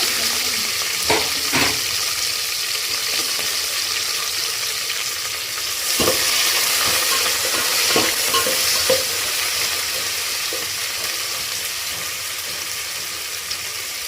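Green chillies sputtering in hot oil, a loud continuous sizzle with irregular spoon scrapes and knocks against the pan scattered throughout; nobody speaks.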